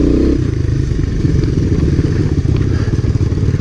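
Honda ATC three-wheelers, a 1985 ATC250SX and Big Red, on a trail ride with off-camber turns. A loud, close engine drones continuously with rough clattering pulses and no letup.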